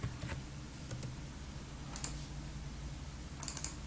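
A computer keyboard being typed on: short clicky keystrokes in two small bursts, a pair near the middle and a quick cluster at the end, fairly close against a faint steady background hum.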